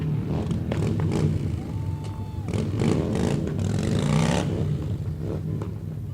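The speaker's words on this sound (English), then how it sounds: "Don't know if you can hear that above the motorcycles." Motorcycles rumble and rev at close range through a university homecoming parade, the Hobo Day Parade, a steady low engine drone with rising and falling throttle that continues without a break.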